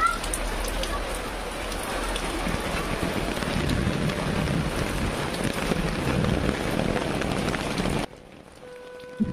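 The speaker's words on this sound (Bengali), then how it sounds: "টিপ টিপ বৃষ্টি হইতেছে" Light rain falls steadily outdoors as a continuous soft patter on surfaces, close and even, then stops abruptly near the end, leaving near silence.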